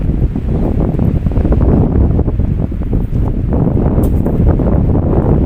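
Loud, continuous wind roars and buffets the microphone for the whole stretch, a rough low rumble with no voices.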